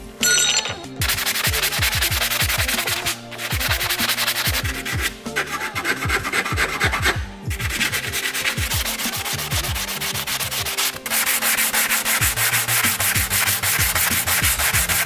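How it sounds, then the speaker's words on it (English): Steady, continuous abrasive scraping of 180-grit sandpaper brushing across metal in one direction, loud and close, in long repeated strokes with a few brief pauses. "I essentially just got like 180 grit and just kept going in one direction."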